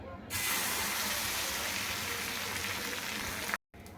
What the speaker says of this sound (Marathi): अंड्याचं मिश्रण आपण तव्यावर घालून घेतलं आहे